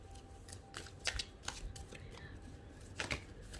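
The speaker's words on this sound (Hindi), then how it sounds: "Very quickly I take out some cards for you." Tarot cards drawn quickly from a deck for a reading, giving soft scattered shuffles and taps with a few sharper card snaps, faint and close, with no talk over them.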